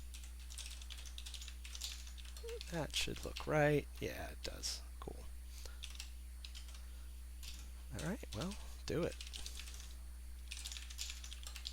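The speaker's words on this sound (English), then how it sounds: "now when I type on this keyboard, I get the key input event, but no keys are coming through" Clicky keystrokes tap on a custom DIY computer keyboard, scattered bursts of typing at close range mixed with someone talking over a low electrical hum.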